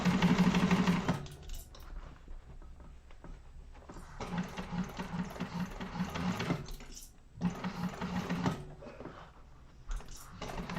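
A sewing machine stitches a crossbody bag in short, steady runs, starting and stopping several times with brief pauses between bursts of fast, even needle chatter.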